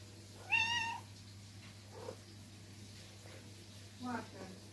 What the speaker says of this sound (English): I'm recording the cat, he's making noise.